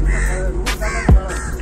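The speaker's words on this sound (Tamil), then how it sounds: "சுமார் எத்தனை காக்கா வருது இங்க?" Crows caw at a feeding spot, a few sharp calls close by, spaced out over a low background hum.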